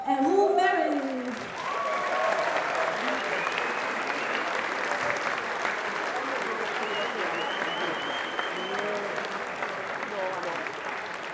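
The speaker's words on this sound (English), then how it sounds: "So give a warm welcome and a big applause for René van der Molengraaf and Roel Merry." A conference audience at the RoboCup 2024 robotics event in Eindhoven gives sustained applause welcoming the co-chairs, a broad steady roar of clapping with some crowd voices and cheers mixed in.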